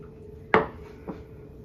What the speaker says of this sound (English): I'm going to take my spatula and carefully lift them off.